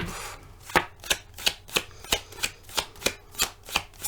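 A deck of tarot cards being shuffled, about ten crisp riffling snaps at an even, steady rhythm, close and clear with no talking.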